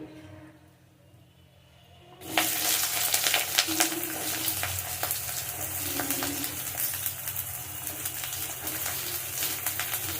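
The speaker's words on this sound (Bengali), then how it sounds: "কালো জিরা দেবো দিয়ে বেগুনটা ভেজে নেব" Eggplant frying in oil with nigella seeds, a steady crackling sizzle that starts abruptly after a quiet moment and stays loud and close with scattered pops and stirring.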